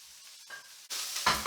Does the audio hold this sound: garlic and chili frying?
yes